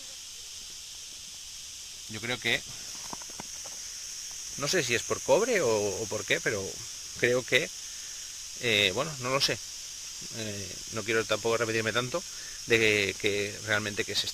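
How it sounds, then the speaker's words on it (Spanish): Cicadas chirring in a dry ravine, a steady high-pitched hiss running throughout in the background beneath someone speaking close by. "aquí con las chicharras, no sé si se escucharán de fondo"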